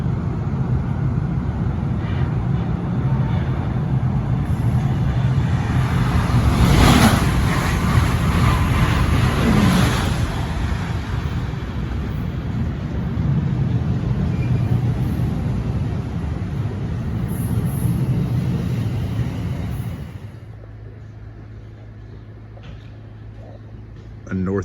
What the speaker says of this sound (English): America's fastest train, the Acela Express, will be passing on the other side of this NJ Transit train.